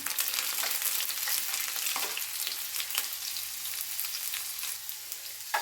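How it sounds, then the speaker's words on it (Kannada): Garlic crackles and sizzles steadily in hot oil in a pan for a Kannada onion-tomato gojju, with close, bright spitting pops and no voices. "ಈಗ ಮೊದಲು ಈಗ ಬೆಳ್ಳುಳ್ಳಿ ಹಾಕಿ ಇನ್ನೊಂದು ಸ್ವಲ್ಪ ಚೆನ್ನಾಗಿ ಎಣ್ಣೆಲೆ ಫ್ರೈ ಮಾಡ್ಕೋಬೇಕು ಇದನ್ನು."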